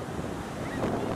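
Ocean waves breaking and washing onto the beach at Huntington Beach, a steady broadband roar with wind buffeting the microphone and a slight swell toward the end.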